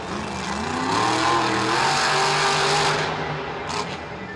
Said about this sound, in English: Oh, his engine pops.